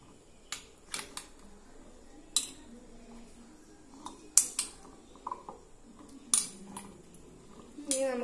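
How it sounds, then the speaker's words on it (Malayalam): A spoon stirs salted ambarella hog plums in warm boiled water inside a jar, making sparse, light clinks and taps against the jar at irregular intervals over a quiet background, with no talking. "വെള്ളം ഒഴിച്ച ശേഷം നന്നായിട്ടൊന്ന് ഇളക്കുക."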